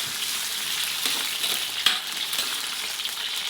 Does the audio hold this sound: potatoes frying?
yes